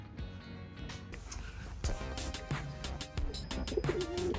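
Soft pigeon cooing close by, with wing flutters and scuffling sounds as a bird settles.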